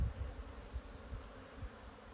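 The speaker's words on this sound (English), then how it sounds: "I'm just really enjoying watching these bees" Honey bees at a hive in winter give a faint, low, steady buzzing hum with a few soft swells, heard from close by and without talk.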